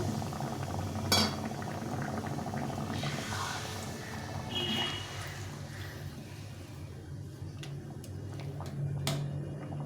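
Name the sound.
boiled water poured into potato curry, simmering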